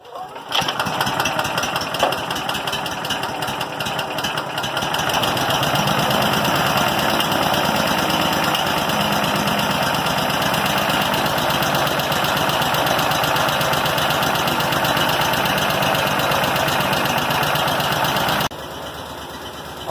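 An outboard motor on a custom flounder boat cranks, catches and settles into a steady loud idle, a continuous buzzing drone that runs alone for about fifteen seconds before dropping slightly in level near the end.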